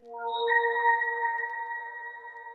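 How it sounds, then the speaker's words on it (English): A sustained synth pad chord fades in softly and holds steadily, smooth and bright with a high shimmering tone on top, no voices. "And then this last accent pad sound."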